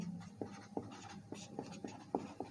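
Pen writing by hand on paper or board during a math lesson, a run of quiet scratchy strokes with regular taps, close and faint with no speech.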